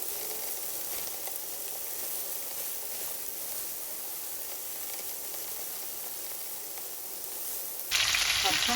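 Seasoned, marinated chicken pieces fry in hot olive oil with a loud, even hiss and crackle that holds steady and up close, then briefly swells near the end, with no talking.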